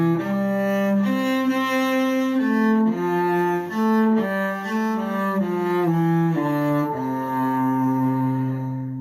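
Cello plays the closing phrase of the Suzuki piece May Time in second position, a slow, singing melody of sustained bowed notes that gradually softens toward the end, solo and close with no voices.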